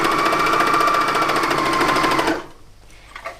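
A new sewing machine stitches a shirt with a fast, steady whirring rattle that runs loud and close, then stops abruptly, leaving near silence with faint handling noises.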